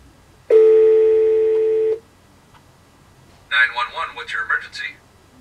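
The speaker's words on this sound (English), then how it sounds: "How can the phone stop ringing?" A telephone in the interactive story game "...Hello?" gives one steady electronic ring lasting about a second and a half, then falls silent before a voice speaks.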